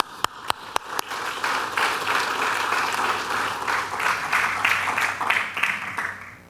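Audience applause fills a lecture hall to welcome Dr. Karthik Ramani, opening with a few sharp single claps before swelling into sustained, steady clapping that fades at the end.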